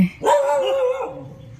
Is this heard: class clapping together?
no